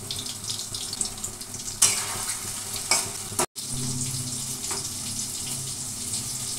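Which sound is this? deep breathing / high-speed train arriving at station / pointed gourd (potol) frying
pointed gourd (potol) frying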